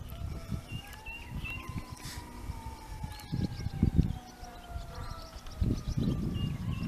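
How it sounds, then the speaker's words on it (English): A distant fire siren wailing over a lake, its faint rising and falling tone carrying steadily through the whole clip beneath low rumbling wind and boat noise, with no talking. "There's sirens. What siren is that?"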